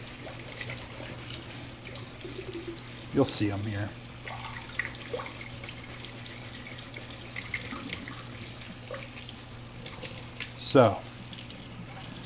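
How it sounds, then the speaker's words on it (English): Cold tap water runs over fava beans in a colander in a kitchen sink, a steady close hiss and splatter running throughout with a couple of louder bursts, while a person talks briefly over it. "So we're straining these in a colander and then you're going to run them under water? yeah, I'm going to do cold water."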